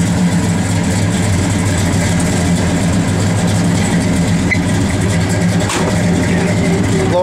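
A 1964 Dodge Polara's engine runs close and loud, with a steady, even rumble that holds through the whole stretch and small shifts in tone, and no talking over it.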